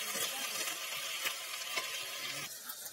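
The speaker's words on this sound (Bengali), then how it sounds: "এখন দিয়ে দিচ্ছি একটা বড় সাইজের টমেটোর টুকরো। সমস্ত কিছু আরো ভালো করে কষিয়ে নিচ্ছি।" Large tomato pieces stir-fried in a pan for a Sundarbans-style Sitahar fish curry, with a steady, fairly loud sizzle and a few soft stirring scrapes and no talking.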